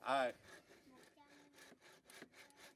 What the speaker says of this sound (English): what we're using at the moment is a drill that he's fashioned by himself